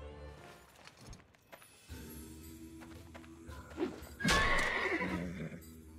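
Horse in the medieval game Life is Feudal whinnies loudly and clearly, with clip-clop hooves and faint rustling before it.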